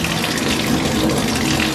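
Hot water runs from a bathtub tap into a bin, a loud, steady gushing splash that fills the whole moment without pause.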